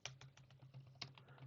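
Someone types a Linux group-add command on a computer keyboard: a quick run of close, crisp key clicks with one sharper stroke near the end, steady and alone with no talk.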